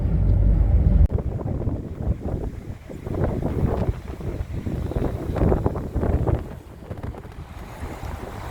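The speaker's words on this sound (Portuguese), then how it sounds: "Vento que vem de leste com força nessa parte aqui do aeroporto." Strong east wind gusting across the Porto Alegre airport under cloudy skies, buffeting the microphone with a loud, rumbling roar that swells and eases in waves, no voices present.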